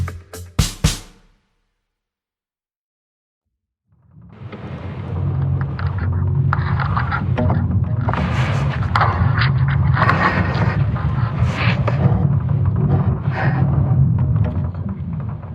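A sonification of Earth's magnetic field reversal from about 41,000 years ago, a sustained low rumbling and grinding drone with creaking, scraping textures, preceded by a few sharp thumps and a short silence.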